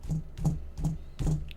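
Four dull knocks on a desk, evenly spaced about 0.4 seconds apart, close to a microphone with an 80 Hz low-cut filter engaged, giving short thumps with little low rumble.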